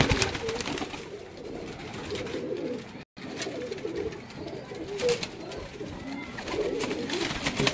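A Magar pigeon coos in repeated soft, low throaty phrases close by, with faint background hiss and a momentary dropout midway.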